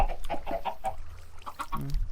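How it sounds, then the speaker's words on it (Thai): A Minecraft chicken clucks in quick, short bursts, a few soft squawks close together at low volume, with no talking. "ไก่กูมันบินขึ้นมา"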